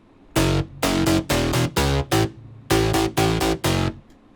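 Thick synth bass chords layered from five Serum patches hit in short rhythmic stabs, future bounce style, two groups of bursts with a brief gap between, loud and full with heavy low end.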